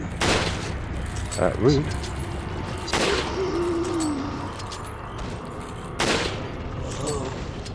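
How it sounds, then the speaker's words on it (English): Rifle shots in Resident Evil 4 crack out as a few sharp, loud reports spaced seconds apart over steady game noise, while a voice speaks briefly. "Switch to the rifle so I can break their shields."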